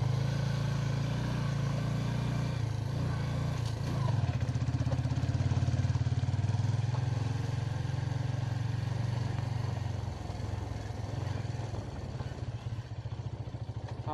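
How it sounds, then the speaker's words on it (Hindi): A motorbike rides along an unpaved dirt road between villages, its engine a steady close drone with a brief rise in the middle and some clatter, no talking. "मैं फ़िलहाल बाइक पर हूँ"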